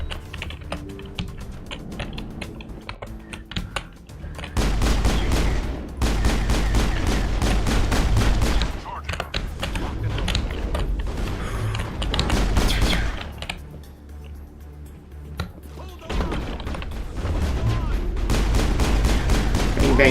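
Rapid bursts of video game gunfire from Mass Effect rattle in dense, loud volleys, pausing briefly and then resuming, with faint talk underneath.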